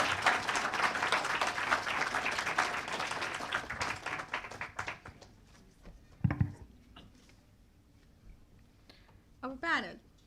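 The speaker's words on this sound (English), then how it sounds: "Let's give them a round of applause." Audience clapping for panelists at an HR summit, a sustained, broad round of applause filling the hall for about five seconds before tapering off into room noise and brief voices.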